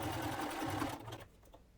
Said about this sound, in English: we're going to stitch about 1/8 inch away from that